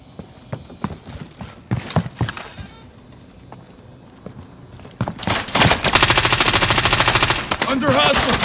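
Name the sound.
gunfire in Warzone video game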